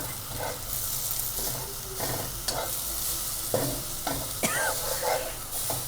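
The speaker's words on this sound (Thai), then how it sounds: "เอาหอมลงผัดด้วยนะคะ" Shallots sizzle steadily in hot oil while a utensil scrapes and stirs the pan in repeated strokes, close and clear.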